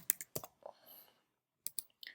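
A handful of sharp keyboard clicks as a git command is typed, spaced in two small clusters around a quiet pause, close and fairly soft.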